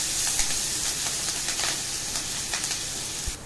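Cumin seeds and green chili paste sizzle steadily in hot oil, a loud, continuous frying hiss with small crackles and pops, close up with no talking.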